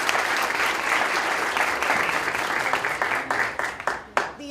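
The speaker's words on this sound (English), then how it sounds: "so let's give them a big round of applause." An audience at a Law Day courtroom event claps in a sustained round of applause, the dense patter thinning to a few scattered final claps at the end.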